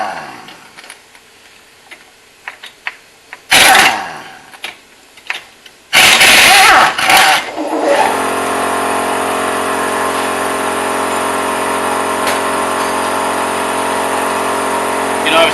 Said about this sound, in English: probably hear the air compressor going off